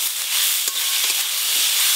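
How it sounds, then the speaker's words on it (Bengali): Chopped tomato drops into onion, ginger and garlic frying in a pan, and a loud, steady sizzling hiss fills the sound, close up with faint stirring taps and no voices. "পেঁয়াজ আদা রসুন হালকা করে ভেজে নিয়েছি, এবার টমেটো কুচি দেবো ওপর দিয়ে।"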